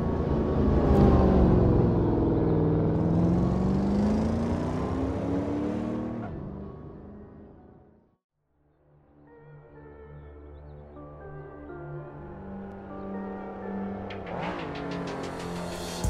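A 1985 Lamborghini Countach 5000 QV, driven in a VR driving game, revs its engine loudly with rising and falling pitch. The engine drops to near silence for a moment, then builds again to a strong, close roar.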